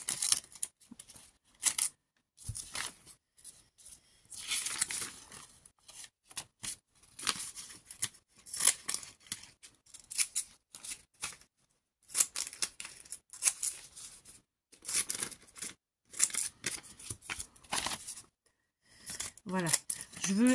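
Scissors snipping through scrapbooking paper, short crisp cutting strokes in irregular bursts with pauses between, close up, while someone talks over much of it.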